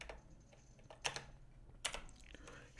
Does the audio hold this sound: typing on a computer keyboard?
yes